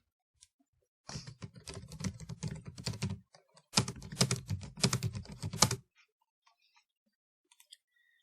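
Keys clatter on a computer keyboard in two quick, uneven bursts of typing, close and clear, with a brief gap between them and near silence before and after.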